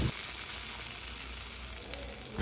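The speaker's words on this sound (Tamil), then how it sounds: "ஒரு 25 கிராம் முந்திரி அதில் ஆட் பண்ணி ஃப்ரை ஆனதும்" Cashews, about 25 grams, frying in ghee in a pan, an even, continuous sizzle at a low level close by, with no talk over it.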